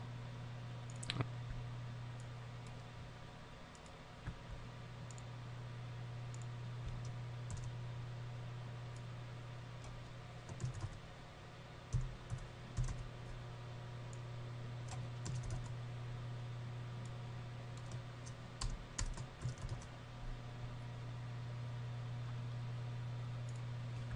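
Quiet typing on a computer keyboard: scattered clusters of soft key clicks over a steady hum of background noise, close and faint, with no talk.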